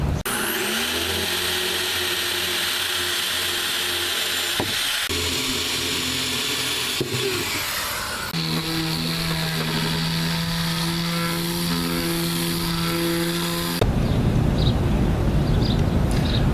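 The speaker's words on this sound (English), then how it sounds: "we just went over this entire project with 60 grit sandpaper" A power sander working over a wooden stuffed-animal play center with 60 grit sandpaper makes a continuous loud, buzzing whine that shifts in pitch and intensity a few times, close up, with no talk.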